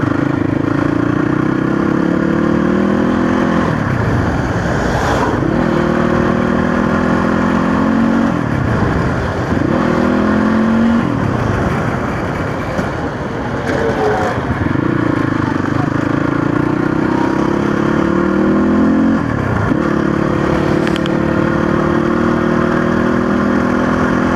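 Motorcycle with a full tank climbing and descending a rough offroad trail near Hetauda, its engine close and loud in repeated surges, revs rising then dipping as the throttle opens and closes every few seconds.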